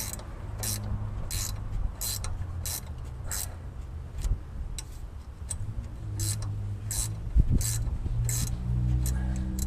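A hand ratchet tightening bolts down onto a small bracket during crank pulley work in a garage: repeated short bursts of sharp clicking, close and clear, with brief pauses between strokes.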